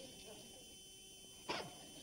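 A dog gives a single short, sharp bark partway through, standing out briefly against quiet background hiss.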